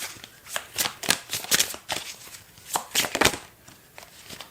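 Tarot cards shuffled by hand in a series of quick, crisp riffles and flicks, close up, arriving in irregular bursts with short pauses between.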